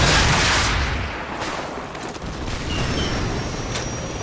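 Heavy gunfire and explosive bursts from the Call of Duty 4 mission 'Hunted', a loud dense barrage that fades slightly then swells again, with no talking.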